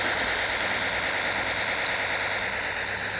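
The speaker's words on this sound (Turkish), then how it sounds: "Yağmur damlaları ya yağıyor ondan sonra hemen gidiyor." Rain falling on a truck windshield in the Cargo Simulator driving game, a steady bright even hiss of spray filling the whole clip with faint drop ticks, no talking.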